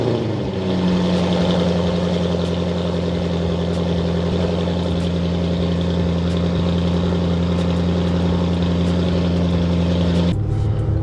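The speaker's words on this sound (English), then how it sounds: "time to break that silence and piss off the neighbors with a cold start" An Audi S7 with a tuned 4.0T V8 idling steadily after a cold start, a loud, deep, constant drone close by that holds for about ten seconds and then drops abruptly near the end.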